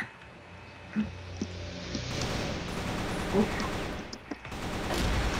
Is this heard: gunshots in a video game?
yes